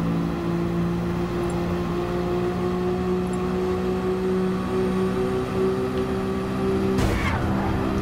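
Racing cars in a video game, including a Camaro and a red R34, roar steadily with a continuous engine drone, then a sharp skid or crash burst near the end.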